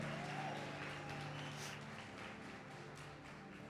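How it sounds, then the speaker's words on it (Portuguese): Church congregation applauding for Jesus during a Sunday worship service, a broad, steady wash of clapping and noise over a sustained low musical hum, with no break across the few seconds. "vamos lá, aplaude Jesus"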